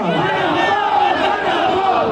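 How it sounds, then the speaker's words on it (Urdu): A large crowd at a religious gathering shouting a chanted response to a slogan, many voices merging into a loud, sustained collective cry, close and continuous. "اسی عقیدے کے ساتھ اس نعرے کا جواب دیں گے اور استقبال کریں گے"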